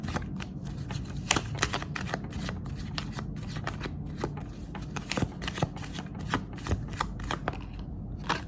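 Tarot cards shuffled for a reading, a steady stream of quick papery riffles and soft flicks, close and continuous throughout with no speech.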